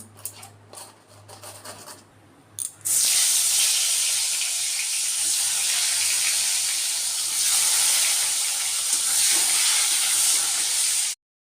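Sweetened food dropped into hot oil in a wok, bursting into a loud, steady broadband sizzle after a few seconds of quieter kitchen noise, then cutting off abruptly.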